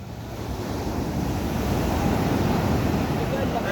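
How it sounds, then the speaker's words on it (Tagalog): Big ocean waves roar in a steady, loud, broadband wash heard from a small paddled boat on rough water, with wind buffeting the microphone throughout. "Oh, ang laki ng alon."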